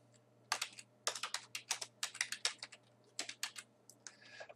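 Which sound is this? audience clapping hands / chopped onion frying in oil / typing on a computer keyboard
typing on a computer keyboard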